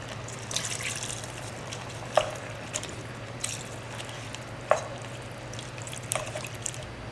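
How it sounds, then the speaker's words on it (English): Water trickling into a simmering pan of Caribbean Trini-style pepper shrimp, a faint continuous pour broken by a few sharp drips and splashes, with no talking. "I'm going to add a little more water."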